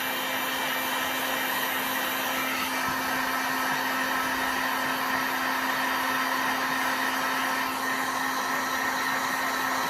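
Heat gun blowing steadily on resin flower pieces in a silicone mold, a constant close airy whoosh with a tonal hum, unbroken for the whole stretch.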